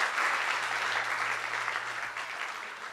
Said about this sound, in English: let's give another round of applause to our panelists for their courage